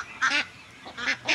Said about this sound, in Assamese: আৰু এইটোৱে আমাৰ পুখুৰীটো, হাঁহ চৰে ইয়াতে।